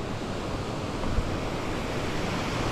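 River water flows under the Bath Bridge in New Hampshire's White Mountains region, a loud, steady broadband rush with some wind noise on the microphone and no voices.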